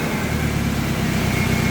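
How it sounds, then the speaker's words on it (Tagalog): A Kia Bongo 3 truck engine runs loud and raw with no exhaust muffler fitted, a steady rough close-up rumble throughout with no talking. "Wala pang tambutso kaya maingay."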